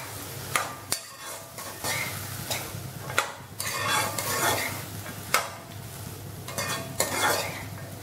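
Tomato and cashew nuts sautéing in a pan for paneer butter masala, a steady close sizzle broken by repeated scraping stir strokes and light clinks of a spoon against the pan, with no talking.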